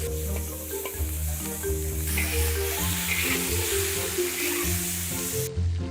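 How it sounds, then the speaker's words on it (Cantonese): Fish meat is stir-fried in a wok with garlic and ginger, giving a loud, continuous sizzle with clattering utensil scrapes and stirring knocks, heard up close with no talking. "倒入魚肉翻炒"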